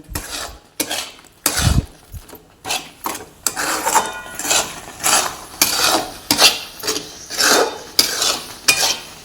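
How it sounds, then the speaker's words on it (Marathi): A spoon stirs thick homemade amla jam in a pot with a steady series of scraping, rasping strokes, about one every half second, close and clear, with no talk. "आपलं साधं मीठ पण टाकून घ्यायचं आणि परत छान असं हलवायचं सगळं असं मिक्स झालं पाहिजे"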